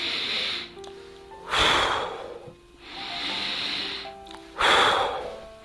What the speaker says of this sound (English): take a few deep breaths.